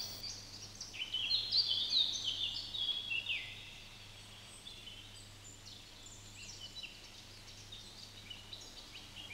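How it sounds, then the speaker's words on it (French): Birds chirping in a mountain setting: a burst of high, quick calls early on, then quieter scattered chirps over a low steady hum. "Regarde des oiseaux."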